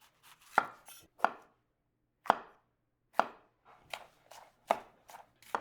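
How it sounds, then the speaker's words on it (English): A knife chops slabs off a red pepper on a cutting board in a kitchen: seven sharp, separate thunks spaced irregularly across a few seconds, close and clear, with no talking. "you can use a red pepper or this pepper, doesn't really matter. Just cut slabs off."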